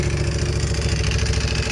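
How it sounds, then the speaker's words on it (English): A 2024 Ducati Panigale V4R fitted with an FM Projects titanium exhaust idles up close, its loud, lumpy, pulsing burble running steadily with a metallic clutch rattle beneath it. "Yeah, you can hear the clutch rattle, but you're really hearing that exhaust."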